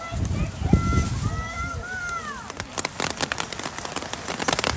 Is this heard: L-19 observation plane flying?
no